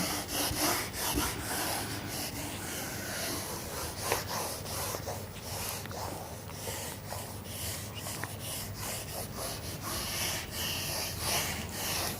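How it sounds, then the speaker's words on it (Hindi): An eraser rubs back and forth on paper in quick repeated strokes, a faint, close, scratchy rustle with a steady rhythm and no speech. "इरेज करता हूँ, रब करता हूँ।"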